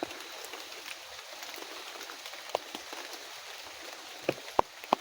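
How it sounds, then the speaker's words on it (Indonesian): Steady rain pours outdoors in a broad continuous hiss, with a few sharper drop or tap impacts standing out near the end; no talking. "Mau tidak mau, memang kita harus hujan-hujanan ini"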